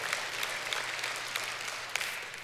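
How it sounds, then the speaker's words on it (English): A church congregation claps together in steady, dense applause, a continuous wash of many hands with no talking over it, holding level for a couple of seconds. "That's something worth clapping for."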